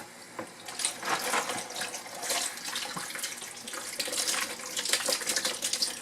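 Cold tap water runs steadily into a sink while sprouting beans are rinsed in a container, a continuous close splashing with small irregular splatters and no talking.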